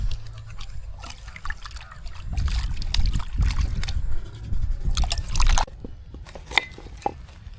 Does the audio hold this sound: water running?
yes